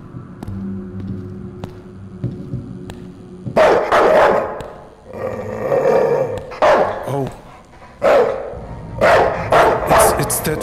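In the horror video game Night People, a dog barks and growls in loud, close bursts that follow a quiet opening tone; someone talks briefly.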